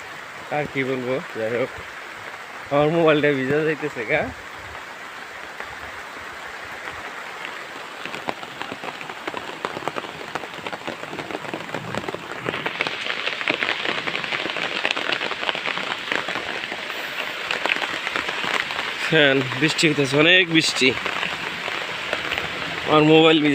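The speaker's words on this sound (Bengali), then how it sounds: "মেলা বৃষ্টি হয়" Heavy rain pours down in a village, a dense, steady hiss of drops on surfaces that swells louder midway, with brief voices speaking near the start and again near the end.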